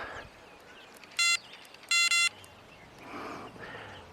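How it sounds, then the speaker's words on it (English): A campsite alarm sounds on its remote receiver as two short electronic beep bursts, the second longer and split, clear against faint outdoor background noise. "that's how you know our alarm's working, because he got it on the remote receiver up at the tent side"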